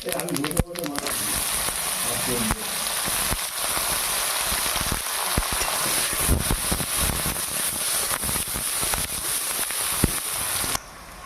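Five-spice and bay leaves hit hot oil while cooking a cabbage and fish-head dish, producing a loud, steady, crackling sizzle that continues throughout and cuts off just before the end.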